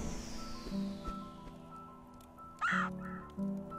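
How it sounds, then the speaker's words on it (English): Cawing bird in the pixel-art mountain-climbing game Celeste, a couple of short squawks over soft game ambience and music, with no talking. "Bird."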